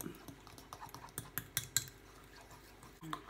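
A utensil stirring a homemade rinse-off face cleanser of donkey milk and cinnamon with preservative drops in a small bowl, giving light clinks and taps that quicken into a brief run of sharper strikes before a pause.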